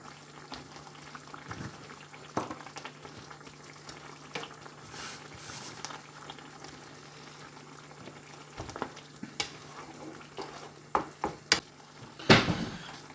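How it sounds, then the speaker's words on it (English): A pot of chicken and lentil curry simmers steadily with a soft, continuous bubbling hiss, and a few sharper pops and clicks come near the end. "We've left that simmering for a while."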